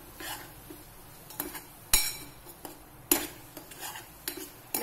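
Spoon stirring shev bhaaji with turmeric in a metal pan, giving irregular clinks and scrapes with a few sharper knocks against the pan, close and fairly quiet, with no talking.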